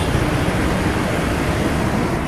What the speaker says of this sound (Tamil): அந்த மாதிரி டிராஃபிக் கைஸ்.